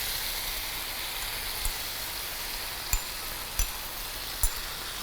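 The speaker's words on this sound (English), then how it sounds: "now we'll add a gravy, that's chili paneer, and that's when you get to hear the real sizzle." Chili paneer gravy sizzles on a hot sizzler plate, a constant bright crackling hiss at moderate level, punctuated by a few sharp pops and clicks, with no talking.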